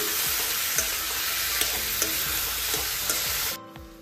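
Bitter gourd frying in a pan with coconut, cumin, coriander, turmeric and salt, a steady loud sizzle broken by repeated scraping stirs, then the hiss drops off sharply near the end.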